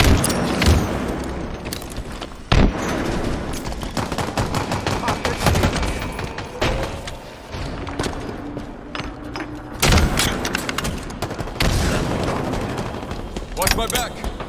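Frag grenade blasts in a Halo Infinite Team Slayer match: loud, booming bursts near 2.6 and 10 seconds cut through continuous rapid gunfire and game effects, with a voice heard briefly.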